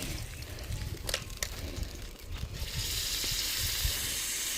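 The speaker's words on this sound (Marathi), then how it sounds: "आता इथं मच्छी फ्राय करायला घेतली" Fish frying in a pan at a family farmhouse outing, a steady close sizzle and crackle that swells louder and brighter partway through, with faint clatter and no talking.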